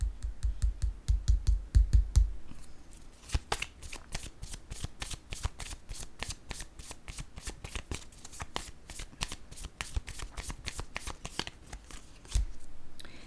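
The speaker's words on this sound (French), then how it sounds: "Je vais déposer une autre carte ici." Tarot cards being handled and laid down during a reading, giving a steady run of soft, close, crisp card snaps and slides, denser at the start and then spaced out, with no talk.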